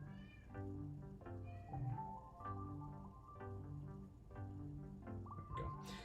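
A cat meows repeatedly, close and fairly clear, with several drawn-out calls in a row and a quiet indoor background.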